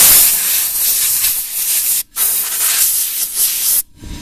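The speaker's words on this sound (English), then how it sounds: "I use the compressed air with the air compressor." Compressed air from an air compressor blowing to dry a tire during DIY winter tire mounting, loud hissing bursts with two brief pauses between blasts.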